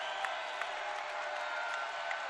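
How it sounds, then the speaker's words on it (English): Crowd at a women's college basketball game, Flyers against Gonzaga, applauding and cheering in a steady, dense wash of sound with scattered claps and shouts rising above it, heard from within the arena. "you can hear the crowd really showing its appreciation here for the Flyers' effort"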